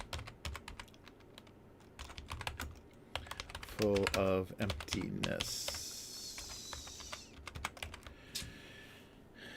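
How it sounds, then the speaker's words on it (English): Rapid clicking on a computer keyboard during a livestream, keystrokes tapping steadily and fairly close, with someone speaking briefly partway through. "typing"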